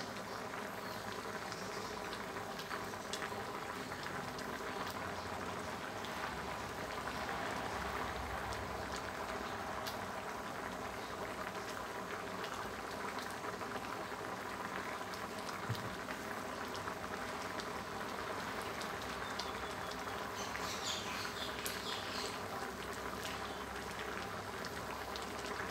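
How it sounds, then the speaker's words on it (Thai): A pot of red curry with pumpkin and pork belly boils steadily, giving a continuous soft bubbling and gurgling that stays even and moderately quiet throughout. No one talks. "เดือดสักครู่เนาะให้ฟักทองกับสุก"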